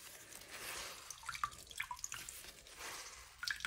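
Water drips from a wrung-out tie-dye T-shirt: faint, irregular small drips and trickles, close by and quiet, with no voices.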